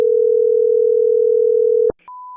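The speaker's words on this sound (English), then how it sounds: "let's get coin shop number 2 on the phone and see what he has to say" A telephone dial tone hums loud and steady for about two seconds while a call is placed to a coin shop, then cuts off with a click and gives way to a brief higher beep and a thinner steady tone.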